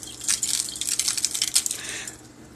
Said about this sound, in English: And I'm going to add some salt.